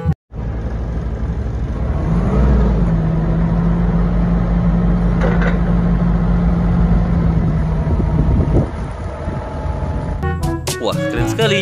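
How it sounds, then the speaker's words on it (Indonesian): Forklift engine running steadily at close range, a loud continuous low hum with a faint tonal whine, ending in a few brief knocks. "Di sini ada forklift."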